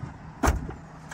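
Power tailgate of a 2024 BMW X5 closing: a soft motor whir followed by one solid thump as it shuts, then a faint click, close by and without talk.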